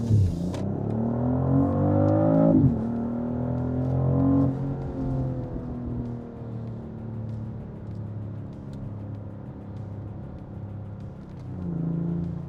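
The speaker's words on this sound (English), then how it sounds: "A lot of pumped-in sound coming inside from the speakers, obviously, just to add up to the overall driving experience of this car, of this SUV" Engine note of a BMW X3 M50 SUV piped into the cabin through the speakers, a loud continuous drone that rises as it revs, drops sharply around a gear change, settles into a steady cruising hum, then swells again near the end.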